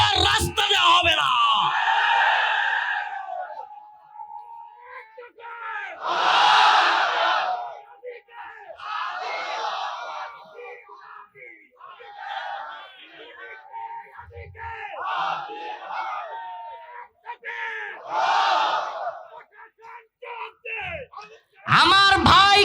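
A crowd shouts slogans in loud, rhythmic bursts at a Bangladeshi religious sermon, voices rising together in call-and-response waves with short pauses between chants.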